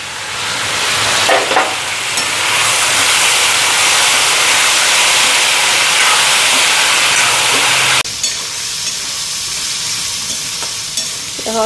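Loud, steady sizzling and hissing of potatoes frying in hot soybean oil, close up, with a brief stir and a shift in tone partway through.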